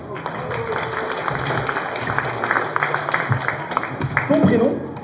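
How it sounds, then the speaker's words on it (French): Audience at a festival magic show claps and cheers throughout, a dense, steady patter of many hands with some crowd voices mixed in, swelling slightly near the end. "On peut applaudir très fort?"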